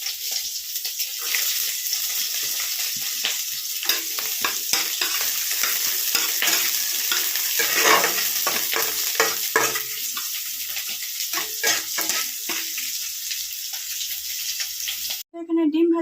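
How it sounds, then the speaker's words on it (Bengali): Green chilies and onions fry in hot oil while being stirred, a loud steady sizzle broken by repeated scraping and clacking strokes of a spatula in the pan. "লাল শাক ভাজবো, তাই তেলে দিয়ে দিচ্ছি কাঁচা লঙ্কা"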